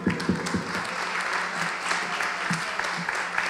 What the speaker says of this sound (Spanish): Un fuerte aplauso para las mujeres,